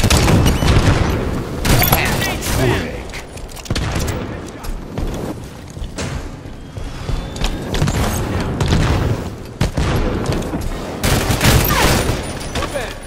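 Heavy gunfire and explosions in Halo 5: Guardians multiplayer, dense bursts of shots and booms crowding together at close range, loud and continuous with game voices mixed in.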